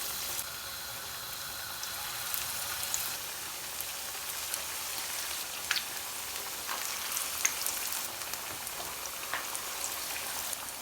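Raw potato kebabs fry in a frying pan with a steady, dense sizzle that runs throughout, broken by scattered small pops and crackles. No one speaks.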